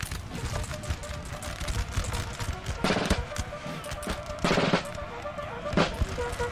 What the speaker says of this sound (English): His artillery is still very active